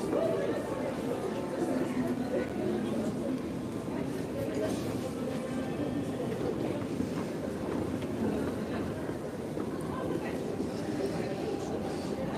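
An underground train travelling one stop between stations gives a steady, rushing rumble with wind-like noise that never lets up, and faint voices sit under it.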